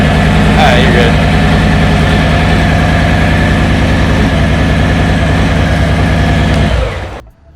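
A Harley-Davidson motorcycle engine idling with a deep, steady, loud throb as the clutch is slowly let out, running evenly before cutting off abruptly at the end.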